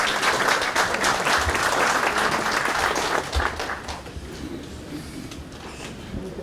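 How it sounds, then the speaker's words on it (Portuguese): An audience at a logistics and transport workshop bursts into steady, full applause that holds strong for about three seconds and then thins and fades away. "uma salva de palmas para o Marcelo."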